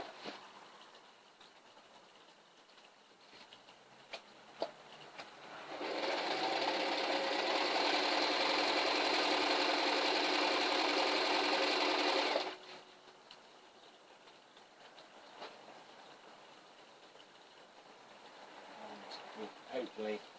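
A sewing machine stitches tie holes in debris netting in one continuous buzzing run of about six seconds, close and steady, with quieter handling sounds before and after.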